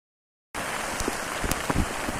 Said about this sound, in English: we've got heavy rain, we've got thunder, and we've got lightning as well